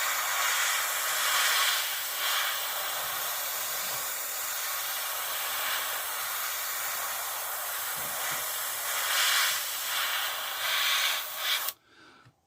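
An airbrush sprays Kaleido matte green paint over matte primer, a steady, close, even hiss that runs unbroken for several seconds, then cuts off abruptly near the end.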